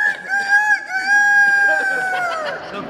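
A rooster crows loudly and close by in a Las Vegas setting, one long drawn-out call lasting nearly three seconds that rises and then trails off, heard alone without talk.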